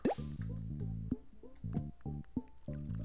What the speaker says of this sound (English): Yeah, I can water it. Okay, hold on.